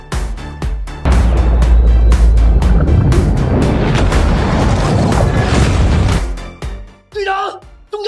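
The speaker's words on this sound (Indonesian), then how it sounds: "东角那边有爆炸声" A deep, muffled underwater explosion boom swells into a long, heavy roaring rumble that sustains for several seconds before subsiding, with a voice speaking briefly afterward.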